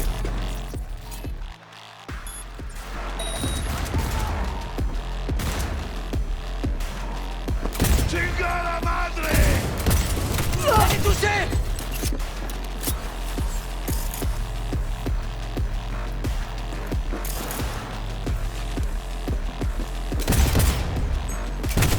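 Repeated gunfire in the video game Cyberpunk 2077, with bursts and single shots scattered throughout amid a busy combat soundscape and a low droning background, loud and close.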